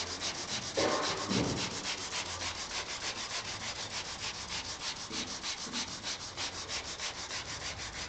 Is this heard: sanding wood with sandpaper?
yes